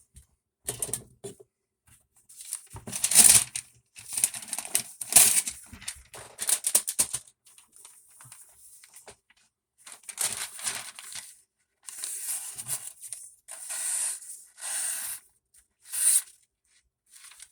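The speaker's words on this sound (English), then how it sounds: "Just cuts through that paper clean." A handmade blade ground from an old saw slices cleanly through a sheet of paper in a series of short, crisp, close swipes separated by brief pauses, with no talking.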